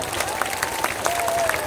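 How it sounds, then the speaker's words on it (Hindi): Crowd clapping at a Jan Suraaj political rally in Arrah, a dense, steady patter of applause filling the whole stretch, with a voice faintly audible underneath. "अब बजा लीजिए ताली"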